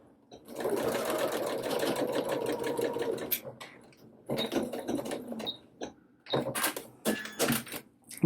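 A sewing machine stitches the shoulder seams of a doll dress in a fast, close whirring run, then pauses and gives several short bursts of stitching with quiet gaps between them.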